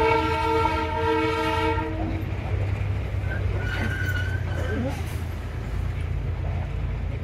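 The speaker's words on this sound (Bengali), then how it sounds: "টয় ট্রেনের সাথে সাথে আমাদের বাসটাও যাচ্ছে।" Darjeeling toy train passing alongside an NBSTC bus: a loud steady horn blast opens the scene, then continuous rumbling rail and engine noise carries on close by, with faint voices now and then.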